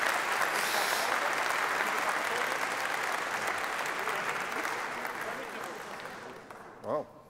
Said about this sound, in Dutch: En een luid applaus.